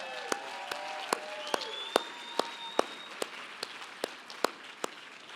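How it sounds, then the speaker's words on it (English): Sparse, distinct claps ring out one by one in a roughly regular rhythm at an auctioneer championship event, with a faint tonal whistle drifting in the background. "Let's give all 6 of them a round of applause."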